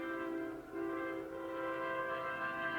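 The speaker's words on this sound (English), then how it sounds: "Hear the train." A train sounds its horn as it approaches a state park campground near the Salton Sea, a steady sustained multi-tone blare held loudly throughout with a brief dip, no talk over it.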